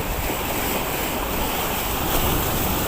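Strong sea waves roll and crash continuously during a day of shore fishing, a loud broadband surf roar mixed with wind buffeting the microphone and no voices heard.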